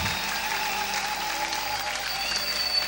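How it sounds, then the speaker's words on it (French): A church congregation applauding at a revival service, a dense sustained clatter of many hands clapping throughout, steady and full with no pauses. "acclame plus fort"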